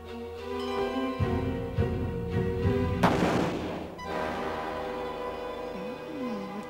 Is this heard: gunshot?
yes